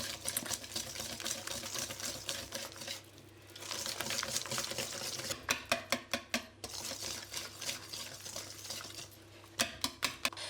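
An electric mixer whirs steadily as it beats egg yolks, vanilla essence and butter for petit fours cookies, broken by rhythmic clattering bursts of the beaters knocking against the bowl.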